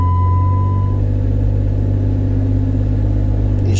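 A 2006 Jeep Wrangler with a faulty 42RLE automatic transmission pulls away from a stop, its engine a loud, steady low rumble that builds evenly throughout, heard close from inside the cab with no talk.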